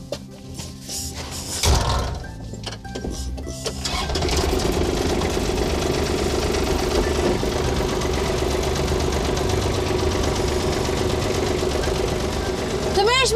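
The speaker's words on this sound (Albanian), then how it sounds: "fermerët jo gjithmonë patatet i nxjerrin me dorë, por edhe me mekanik, me traktor, fillojnë punën" A tractor engine works in a potato field lifting potatoes from the soil, a loud steady mid-pitched drone that settles in after a few seconds of clatter, with people talking over it.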